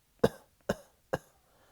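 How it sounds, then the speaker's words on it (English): Three short, deliberate coughs from a person, evenly spaced about half a second apart, close and moderately loud in an otherwise quiet room. "I started coughing."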